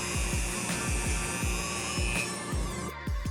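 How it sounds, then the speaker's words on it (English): A power sanding tool works the inside of a carbon sleeve fitted on a Lotus engine block, giving a steady high whine with rhythmic low thumps repeating about every half second, close and loud with no talk. "we're going to sand out the inside of the carbon sleeve"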